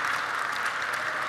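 Polite clapping from the gala audience at an entrepreneurs' panel, a brief, fairly soft, even patter of many hands with no voices over it.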